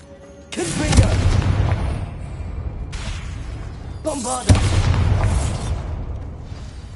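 Bombarda blasting spell explosions in Hogwarts Legacy: two loud, booming detonations a few seconds apart, each with a sharp crack and a rumbling tail, alongside swooshing magic effects.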